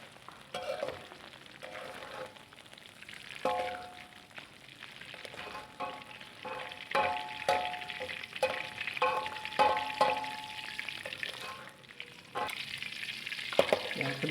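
Scallions and celery fry in a hot pan for soto padang, a steady crackling sizzle with occasional stirring scrapes, close and fairly loud throughout with no talking.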